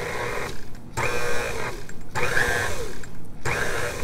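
Electric mixer beating cookie dough with coconut folded in, a steady mechanical whir that runs in three bursts with brief pauses between, close and fairly loud.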